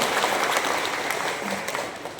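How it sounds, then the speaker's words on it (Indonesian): An audience at an Indonesian vocational high school event applauds after a welcoming speech. Lively clapping stays loud and continuous throughout. "Boleh kita beri tepuk tangan yang meriah dulu untuk sambutan."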